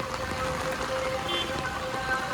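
Steady monsoon rain falling on a rooftop terrace in Surat, a continuous close patter and hiss with no pauses, faint background tones mixed in.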